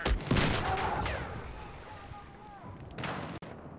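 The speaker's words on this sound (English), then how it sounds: "There appears to be an enemy machine gunner." Rapid machine-gun fire from an enemy gunner in a video game crackles loudly at the start, then fades into rumbling ambience with a short second burst near the end, while a voice talks over it.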